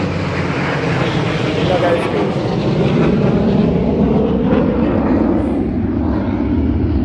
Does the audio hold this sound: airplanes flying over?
yes